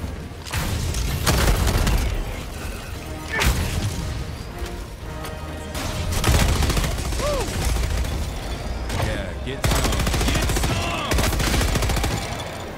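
Rapid automatic fire from enemy machine guns in the Helldivers 2 video game, rattling bursts rolling on and off over a loud battlefield with booms and crashes mixed in.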